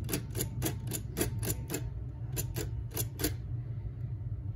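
Braille writer keys embossing a name onto a label, a run of sharp mechanical clacks in quick bursts with short pauses between, fairly close and alone over a steady low hum.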